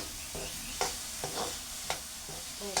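Chopped flowers being stirred and fried in a pan, with a soft steady sizzle broken by several sharp scraping stirs spaced irregularly, close and fairly quiet, no voices.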